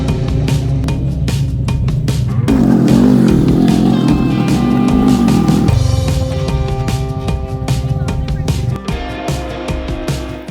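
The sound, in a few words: Polaris off-road buggy engine driving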